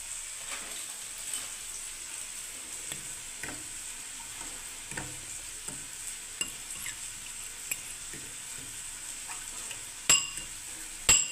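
Coriander powder and spices frying in a pan with a splash of water, stirred with a utensil: a steady soft sizzle runs throughout, broken by light scraping strokes and a couple of sharper clinks near the end.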